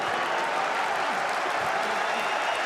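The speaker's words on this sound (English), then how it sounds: "And the crowd appreciative right up until the end." An arena crowd at a professional MMA fight applauds at the end of the bout, a dense, steady wash of clapping and crowd noise that holds evenly throughout.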